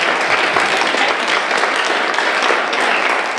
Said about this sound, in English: Can we get one more big round of applause for our sponsors?